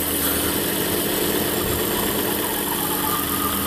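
A 2005 Volvo V50 engine idling with its oil cap in place, carrying a steady droning hum with a faint whine from a clogged positive crankcase ventilation system, constant and close with no voices.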